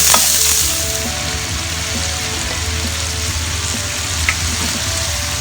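Pork coated in flour, pepper, oyster sauce, seasoning sauce and fish sauce sizzles and crackles steadily in hot oil in a pan as it is stir-fried for Thai garlic-pepper pork, loud and close with occasional stirring scrapes.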